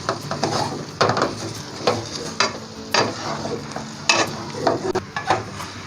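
A spoon stirs and scrapes semolina halwa against a pan in repeated, uneven strokes over a low background sizzle, with occasional wooden knocks and clatter, close and fairly loud.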